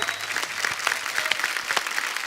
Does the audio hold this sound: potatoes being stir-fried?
no